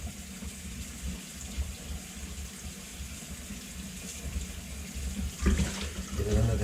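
Cold tap water runs over freshly boiled, peeled eggs in a kitchen sink, a steady moderate splash that grows a little louder and more broken near the end as the eggs are handled under the stream.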